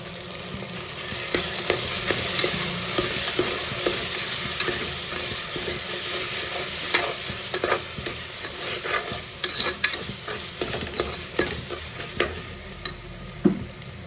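Tomatoes sautéing with salt and turmeric in a pan for chicken kurma make a continuous close sizzle, with frequent clicks and scrapes of stirring scattered throughout.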